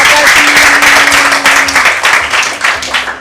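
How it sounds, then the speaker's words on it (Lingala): Loud, dense clapping from a group of children and adults at a gathering, sustained steadily throughout with a faint voice or tone underneath. "Bobeta maboko makasi."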